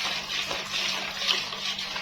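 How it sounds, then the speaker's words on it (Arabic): Half a cup of water poured into a pan of chicken and potatoes while cooking, a steady close splashing gush that runs for about two seconds with no talk. "وهنجيب شويه ميه، نص كوبايه كده من الميه اهي."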